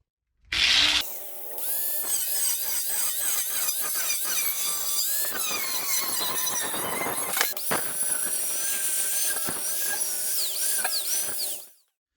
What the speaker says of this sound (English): we're gonna cut some metal